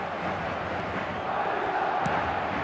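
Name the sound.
stadium crowd cheering in eFootball 2026 video game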